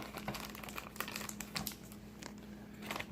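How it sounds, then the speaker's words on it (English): A large plastic bag holding Megahouse gashapon figure parts is cut open, with quiet crinkling and rustling of the plastic and a few sharper crackles, close and soft. "usually it comes in one large bag, which I usually just cut out"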